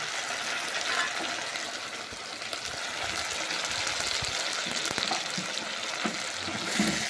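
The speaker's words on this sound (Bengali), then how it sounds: "এবার খুব ভালোভাবে ভেজে নেব" Spices fry in a pan with tomato, a steady moderate sizzle and crackle with occasional stirring scrapes, heard alone without talk.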